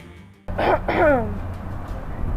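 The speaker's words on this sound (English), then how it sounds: "Sorry, I had to clear my throat" A single throat clearing close by: two harsh, rough bursts in quick succession, then quiet room noise.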